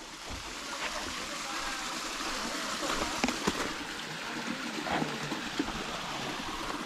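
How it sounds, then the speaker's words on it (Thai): A natural mountain waterfall, Krok Ma Tai falls at Khao Phai near Pattaya, pours in a continuous broadband rush of water heard up close, with occasional splashes rising above the steady roar. "นี่อะเนี่ยครับ น้ำตก"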